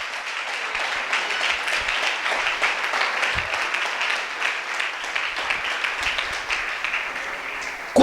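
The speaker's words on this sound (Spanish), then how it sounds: "Apláudele si le vas a aplaudir." A church congregation applauds during an evangelist's sermon, with sustained, dense clapping filling the space evenly at a strong, steady level from start to finish.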